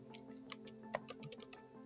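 Quiet typing on a computer keyboard, a quick irregular run of light clicks heard alone against a low steady hum.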